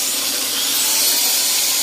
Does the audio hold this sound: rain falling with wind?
no